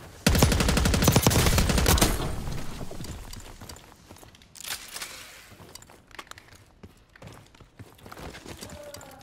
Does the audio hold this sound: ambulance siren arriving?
no